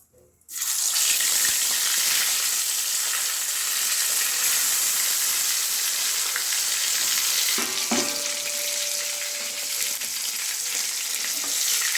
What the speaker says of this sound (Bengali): কড়াইয়ের মধ্যে দুটো করে মাছ ভেজে তুলছি